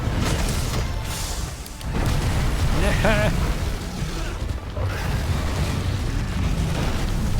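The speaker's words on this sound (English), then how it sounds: "Stop exploding on me." Teostra's explosions in Monster Hunter World, Master Rank: a sustained roar of loud, rumbling blasts filling the whole stretch, with a brief dip partway through, while a voice talks over the din.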